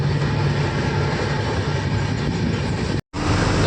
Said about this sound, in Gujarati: ટ્રેન બ્રેક થઈ ગઈ છે ને હવે આ ટ્રેન નીકળશે